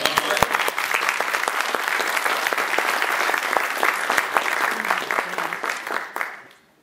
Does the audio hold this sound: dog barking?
no